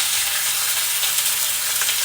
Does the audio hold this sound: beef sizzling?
yes